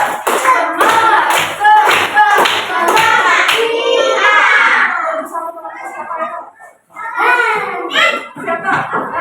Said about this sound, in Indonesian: Tepuk semangat cowboy.